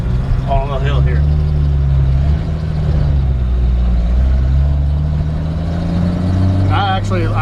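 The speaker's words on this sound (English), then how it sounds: "It's a old truck and sometimes you got to crank them 3 times." A 1954 Chevrolet 3100 pickup truck engine runs with a loud, steady low rumble that shifts slightly in pitch as it revs, with someone talking over it at the start and end.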